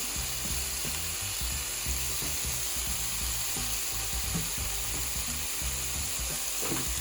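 Steady sizzling of vegetable noodles stir-frying with gochujang paste, with rapid scraping and clicking of a utensil against the pan, continuous and close with no talking.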